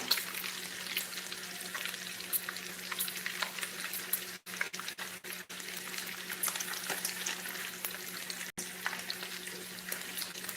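Bacon sizzles and spits steadily in a frying pan, a dense continuous crackle with occasional brief dropouts, close and fairly even in loudness, with no talking.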